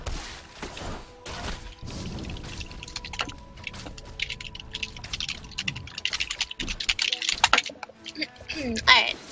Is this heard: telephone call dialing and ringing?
no